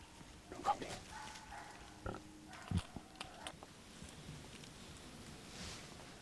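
Wild boars in a driven hunt in Sibiu, Romania: faint grunts and snorts come from a distance, with scattered rustles and short thumps over a quiet outdoor background.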